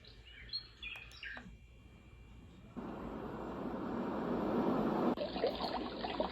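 A Douni white noise sleep machine cycles through settings: faint chirping birdsong first, then a steady broadband rush of water that swells and shifts tone near the end.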